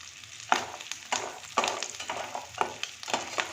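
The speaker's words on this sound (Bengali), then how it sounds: "বড়িগুলোকেও লাল লাল করে ভেজে নেব" Dried black-gram lentil dumplings (bori) frying in oil alongside fish roe; soft, uneven sizzling swells in repeated bursts roughly every half second to second, close and fairly quiet, with no talking.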